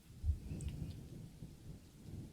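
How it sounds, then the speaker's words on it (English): Thunder rolls through a rainstorm outside a haunted mansion in a game, a soft, distant low rumble with one stronger swell near the start over a quiet, steady rain hiss. "I hope you all enjoy the thunder noises, because I don't."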